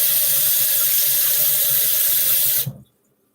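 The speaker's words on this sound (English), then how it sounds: "I need to rinse off my fingers." A kitchen sink tap runs loudly and steadily as fingers are rinsed under the stream, then shuts off abruptly, leaving near silence.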